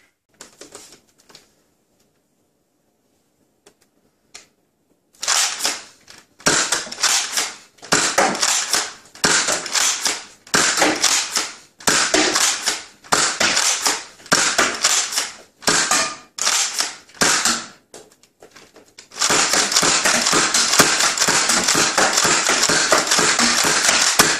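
An X-Shot Excel Max Havoc toy blaster fires on a range in a rapid string of sharp, loud snapping shots after a quiet start, ending in a sustained continuous burst of fire.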